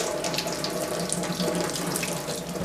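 Water runs steadily from a kitchen tap, a continuous close splashing rush with no pauses and no talking.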